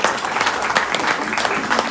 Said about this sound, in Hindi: मेरे लिए तालियां बनती है भाई।